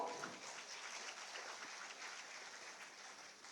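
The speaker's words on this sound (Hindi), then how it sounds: "तालियां आपकी ओर से जोरदार हों" Audience applause welcomes a guest at a ceremony in Ranchi where teachers receive appointment letters and merit honours, a steady, dense wash of many hands clapping at moderate distance for several seconds, fairly soft and even throughout.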